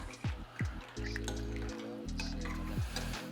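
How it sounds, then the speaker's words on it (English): A vegan Thai coconut soup stirred in a pot: soft liquid sloshing and drippy spoon sounds, quiet and close, with a few short low hums between the strokes. "Just going to stir this up."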